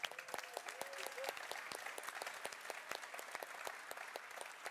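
Audience applause for Carlotta at the Techstars Transformative World Torino demo day, scattered distinct claps over a soft crowd murmur, fairly faint and distant.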